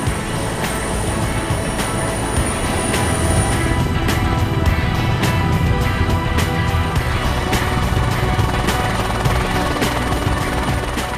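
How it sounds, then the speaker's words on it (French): Military helicopters lift off, their rotors producing a loud, close, rhythmic chopping over a heavy engine roar, with sharp regular beats thickening as the blades spin up. "les hélicoptères décollent"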